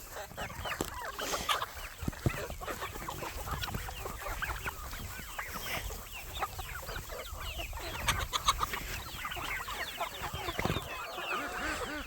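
Chickens cluck and chatter continuously in a backyard flock, a busy, steady layer of soft calls at moderate distance with no talk over it.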